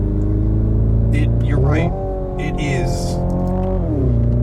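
A 2025 Hyundai IONIQ 5 N hums with a steady, layered motor drone while driving, its pitch sliding up and down as it accelerates and eases off, with people talking inside the cabin.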